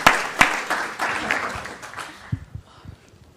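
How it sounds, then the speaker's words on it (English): An audience at a literary talk claps briefly for the first person to ask a question, a scattered burst of hand claps that fades to a few sparse claps and settles into quiet. "I think it's good to applaud the first person to ask a question."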